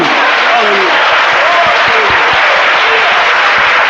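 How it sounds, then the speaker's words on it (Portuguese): A church congregation claps steadily and loudly for several seconds, a dense wash of applause with a few voices calling out underneath. "Se foi para o bem, então aplauda Jesus Cristo."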